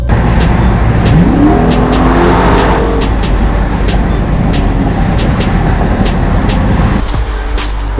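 A car drives loudly at close range on the way to a New York body shop, its engine rising in pitch as it accelerates with a brief tire squeal. Road noise runs steadily and no one talks.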